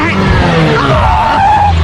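A bus brakes hard to a stop, its tires skidding with a loud, sustained squeal over engine rumble, with voices talking over it throughout.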